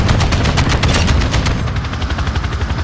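Rapid automatic assault rifle fire from a Modern Warfare shooter, a loud, dense stream of closely spaced shots rattling continuously for about three seconds, with no voices over it.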